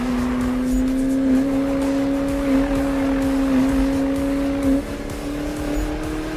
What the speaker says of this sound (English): to się nazywa drift